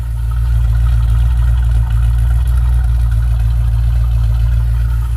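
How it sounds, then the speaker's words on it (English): A 1997 Land Rover with a 4.0 engine and a new exhaust idles steadily and loudly up close, a deep, even rumble that holds for the whole stretch with no voices over it. "Someone's got a new exhaust on it too."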